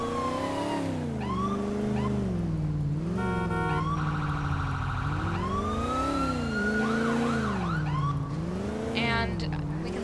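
Police car sirens in the video game GTA IV, a loud, continuous in-game wail that sweeps up and down in pitch, then briefly shifts to a rapid yelp and a steady tone before the wailing resumes, with traffic noise beneath.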